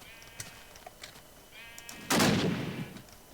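A World War II-style gun fires in a modded Minecraft game, a sudden loud burst of noise after a couple of faint clicks, then a decaying tail.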